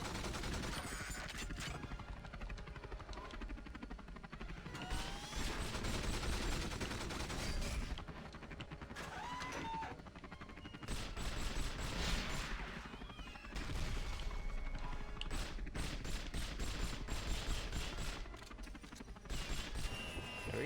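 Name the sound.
pistol gunfire in the video game 007 From Russia With Love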